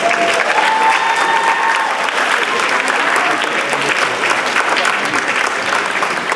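A live audience at a university dance competition event applauds the dancers, with loud, dense clapping and crowd noise filling the whole stretch at a steady level.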